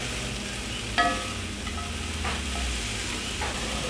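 Vegetables for a vegan pad thai stir-fry over high heat, giving a steady, fairly soft sizzle with a few clinks and scrapes of stirring and no voices.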